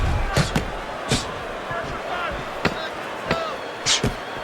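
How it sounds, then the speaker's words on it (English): Boxers trade punches in a heavyweight boxing match, a handful of sharp, separate thuds and slaps spaced irregularly under ongoing commentary. "And now they're trading blows."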